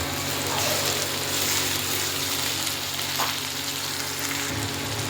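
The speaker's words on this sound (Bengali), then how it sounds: "এবার টমেটো পেস্টটা দিয়ে দেবো" Tomato paste hits onions frying in oil for a chicken curry, giving a steady, dense sizzle throughout with faint stirring sounds and no talking.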